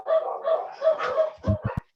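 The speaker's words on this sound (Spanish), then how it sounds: "pues los perritos empiezan a ladrar" Small dogs bark in the evening around feeding time, a quick run of yips and barks in the middle distance, the last few sharp and closer together, with no one talking over them.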